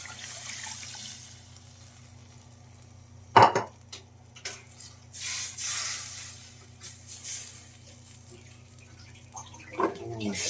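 Broth poured into a pot for beef pot roast, a soft liquid pour with a sharp clank of metal and light stirring clatter, close and fairly quiet.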